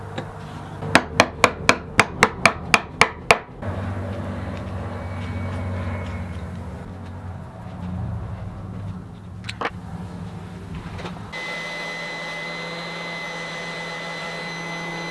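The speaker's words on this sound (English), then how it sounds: "we're going to thread all of these things onto that bolt, tighten it down, and chuck it up in the drill press." A run of sharp, evenly spaced knocks gives way to the steady whir of a drill press spinning a bolt stacked with wooden spool-clamp parts for sanding, with a shift in the motor's tone near the end.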